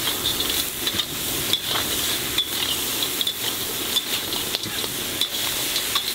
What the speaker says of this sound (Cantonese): 落蟹之後咧，就可以改成猛火快炒啦